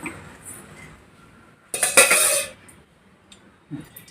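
A metal pan clatters on a lit stove as ghee is added, with a few soft utensil clinks and one loud clattering burst of metal on metal midway.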